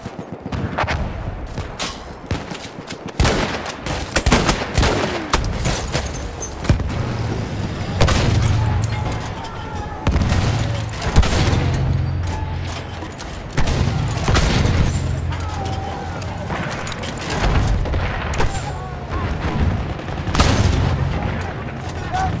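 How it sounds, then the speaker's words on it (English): Battlefield 1 combat erupts with dense artillery booms and scattered rifle and machine-gun fire, explosions landing near and far in a continuous, chaotic barrage with some voices in the mix. "The enemies are being halted by our artillery barrage."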